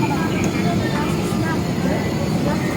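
A steady, loud airplane engine roar while the plane sits waiting before takeoff at Cagayan de Oro, a constant cabin drone with voices talking faintly underneath.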